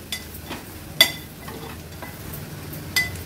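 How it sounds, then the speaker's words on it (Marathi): Turmeric and masala fry in oil for a traditional Agri Koli dried bombil dish, giving a soft, steady sizzle with a few sharp clinks of a spoon against the pan. "हळद आणि मसाला ना तेलावर छान असा परतून घ्यायचा एक अर्ध्या मिनिटासाठी"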